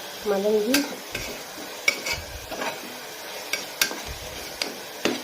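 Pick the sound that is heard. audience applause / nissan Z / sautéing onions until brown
sautéing onions until brown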